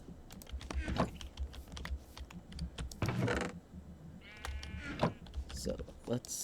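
Minecraft sheep bleating in the game, several short nasal bleats spread across the stretch alongside clattering computer keyboard typing, with a person talking softly over it.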